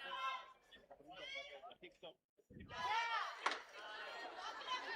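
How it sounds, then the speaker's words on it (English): A cheering section at a Tier 1 young adult female world championship stage shouts encouragement; faint, distant group yells and excited voices come in bursts with a brief lull midway. "I can hear those guys cheering her on."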